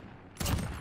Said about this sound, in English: They think it's a shotgun.